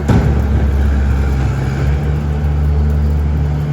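A small tractor engine runs at close range with a steady, loud, low rumbling drone that holds even throughout, heard alone with no talking.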